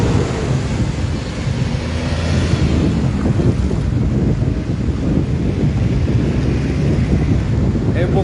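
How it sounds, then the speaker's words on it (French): Rough sea waves surge and wash over a flooded seafront boulevard in Libreville, Gabon, a continuous churning roar buffeted by wind noise on the microphone. "les vagues se sont calmées un peu"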